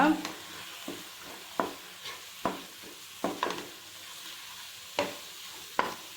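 Sweet corn gravy on a low flame as coriander powder is stirred in, soft sizzling under a series of distinct spoon scrapes and taps against the pan, roughly one every second, close and fairly quiet.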